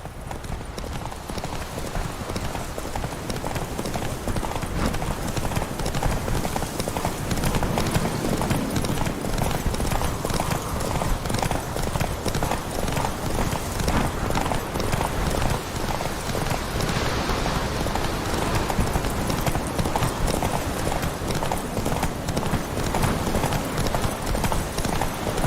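Roach, the horse in The Witcher 3, gallops in a race to Kaer Morhen. A loud, steady drum of hoofbeats runs throughout, with no pauses.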